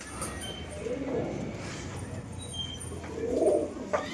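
Pigeons coo softly nearby, with low throaty cooing rising in two swells amid faint chirps and background noise, while a person speaks at times.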